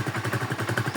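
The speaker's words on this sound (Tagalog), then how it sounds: "Ayan, tamang painit lang para mag-circulate yung langis sa mga gear niya sa ilalim ng makina." Motorcycle engine idling to warm up after a fresh oil change, a steady close throb of rapid even pulses with a slight mechanical clatter, no voices.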